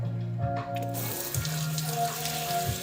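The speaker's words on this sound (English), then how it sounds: "Again, start with cold water." Cold water runs from a tap over tie-dyed fabric being rinsed, a steady broadband hiss that starts slightly thin and then fills out, with a faint tonal hum underneath and no talking.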